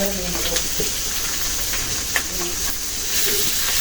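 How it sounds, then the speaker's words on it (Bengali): Ginger garlic paste frying in hot oil, producing a continuous loud sizzle and hiss with occasional stirring clicks, while a person talks over it. "আদা রসুন বাটাটা একটু ভাইজা নিচে সাথে"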